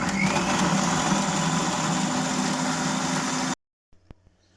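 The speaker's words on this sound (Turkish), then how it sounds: "Şimdi içerisine 2 adet suyu sıkılmış domatesi robotta çekiyoruz" A food processor runs steadily at high speed, whirring as it purees two juiced tomatoes for Urfa-style lahmacun topping. The loud, even motor drone cuts off abruptly, leaving a few faint clicks and taps.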